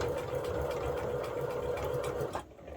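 A sewing machine stitches quilting cotton in a steady, fast mechanical hum close by, running continuously before stopping abruptly near the end.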